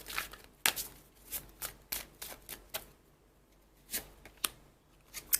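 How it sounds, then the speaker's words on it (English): A deck of tarot cards is shuffled clumsily by hand, giving a string of close, crisp riffles and flicks in uneven bursts, with quiet pauses between them and no talking. "I'm a very bad shuffler"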